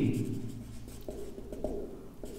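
A pen writes out a math solution on paper: close, continuous scratchy strokes with small ticks where letters and numbers begin, steady and unhurried, over a low background hum.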